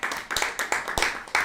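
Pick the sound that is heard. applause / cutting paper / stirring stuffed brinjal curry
applause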